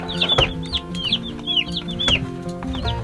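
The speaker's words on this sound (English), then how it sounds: "A lot of little baby chicks." Baby chicks in a homestead brood area peep in repeated high, rising and falling chirps, several birds calling over one another at close range against a low steady background hum.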